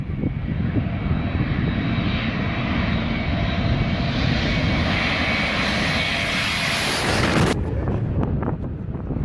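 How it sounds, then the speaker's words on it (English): An Airbus A321neo landing unusually low over spectators at Skiathos, Greece: a loud, roaring jet engine swelling as it passes directly overhead with heavy wind buffeting, then the roar cutting off sharply as it moves away. "This Airbus A321neo came in unusually low, almost hitting spectators while landing in Skiathos,"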